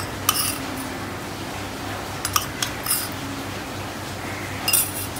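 A metal spoon stirs salt into palak paneer in a pan, giving a few sparse, light clinks against the pan over a quiet background.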